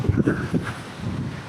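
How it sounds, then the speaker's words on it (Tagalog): Strong wind buffets the microphone on a white-sand beach in Boracay during the southwest monsoon season, a loud, continuous low rumble in brief gusts. "Ang lakas ng hangin."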